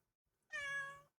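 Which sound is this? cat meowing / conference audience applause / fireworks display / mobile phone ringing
cat meowing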